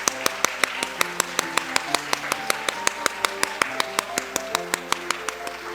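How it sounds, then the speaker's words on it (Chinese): A church congregation claps to welcome new visitors during a Sunday worship service, with sharp hand claps falling in a steady, even rhythm over sustained accompanying music. "請起立，互阮來拍手歡迎你"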